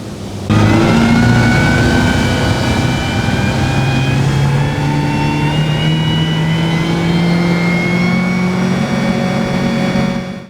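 A powerful MasterCraft XStar 23 boat engine roars steadily at high speed for about ten seconds, its pitch rising slowly, loud and close with no voices.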